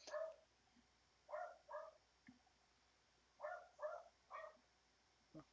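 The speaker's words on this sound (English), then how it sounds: "Oh, dog's barking." A dog barks in two quick clusters, three sharp barks, then a pause and three more, moderately distant against a quiet room with no talking.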